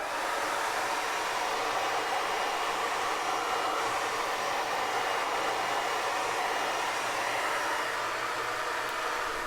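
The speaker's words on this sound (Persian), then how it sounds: "به خاطر صدای سشوار ببخشید" A hair dryer blows hot air over embroidery fabric to erase heat-erasable pen lines. It gives a loud, continuous, steady whooshing hiss close to the microphone that runs unbroken throughout, with no speech.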